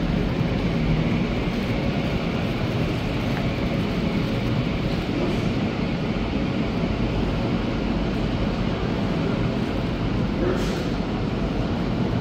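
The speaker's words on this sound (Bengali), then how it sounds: "ট্রেন চলে এসেছে।" An underground bullet train arrives at Seoul station deep below ground, producing a loud, continuous rumble and roar that fills the platform and holds steady throughout.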